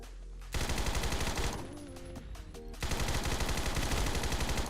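Tommy gun submachine gun in the shooter game Phantom Forces, fired in loud sustained full-auto bursts with a brief lull and reload clatter midway before rapid fire resumes.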